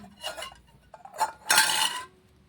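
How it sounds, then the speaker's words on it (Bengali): A ladle works through egg pitha batter with chopped onion in a bowl, producing several close scraping and clinking strokes against the vessel and a longer rubbing swirl, with no talking. "এখন এটাও দেখুন ডাবুর সাহায্যে ভালোভাবে মিশিয়ে"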